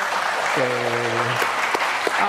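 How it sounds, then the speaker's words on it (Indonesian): Applause rises from an audience at a university event honoring administration education students, a steady wash of clapping heard close and moderately loud, with a short sustained voiced tone briefly cutting through midway. "Tepuk tangan untuk teman-teman mahasiswanya."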